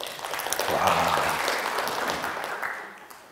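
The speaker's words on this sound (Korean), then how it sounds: "그렇죠, 박수." Applause from a lecture audience swells up, peaks briefly and tapers off over a few seconds, fairly faint and distant in the room.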